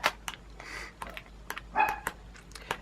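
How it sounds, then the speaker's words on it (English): A pet dog barks several times in short, sharp bursts indoors, moderately close, with some light clicking sounds in between. "Sorry, heard my dog."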